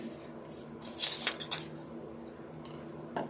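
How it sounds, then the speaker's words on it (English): A sharp X-Acto knife slices through gingerbread to shape a chimney piece, giving scattered crisp scraping and crunching strokes up close, with a brighter cluster of cuts in the middle. "these cut better when you have a sharp X-Acto knife"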